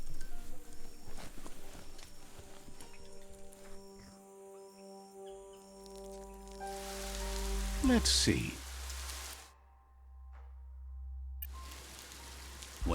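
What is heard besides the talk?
rain falling in the video game Biomutant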